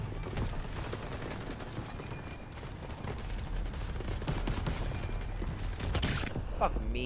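Artillery and gunfire in a Call of Duty WWII battle, a dense, continuous barrage of booming blasts and shots with mechanical clatter, loud and sustained throughout with a sharper burst near the end.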